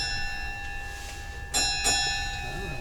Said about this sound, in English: So why the bells are ringing?